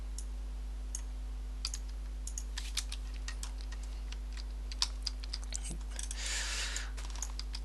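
Typing on a computer keyboard during a Minecraft Sky Factory 2 session, with scattered irregular key clicks and bursts, close but quiet over a steady low electrical hum, followed by a short rapid flurry of keystrokes near the end.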